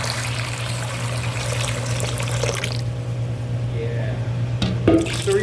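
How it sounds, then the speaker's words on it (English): Warm 100-degree water and milk pour steadily into yeast for an enriched dough, a continuous close trickle over a steady hum, with speech at points. "Let's add our warm liquids."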